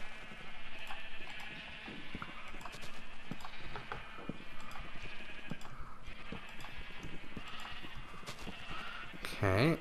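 Sheep bleat repeatedly in a blocky Minecraft-style farming game, loud and close, mixed with game noises and hoof-like clopping, while someone talks over them.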